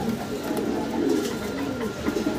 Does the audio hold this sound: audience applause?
no